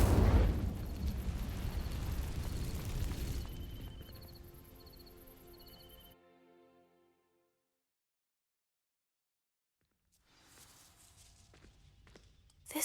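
An Incendio fire spell is cast in Hogwarts Legacy, a loud whooshing burst that fades over several seconds into near silence before faint ambient rustling returns.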